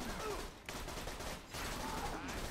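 Gunfire in Borderlands 2, a dense burst of rapid shots that carries on for about two seconds with two brief breaks, moderately loud amid game noise.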